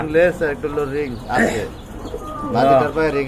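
Pigeons coo in low, throaty bursts close by, mixed with people talking over them.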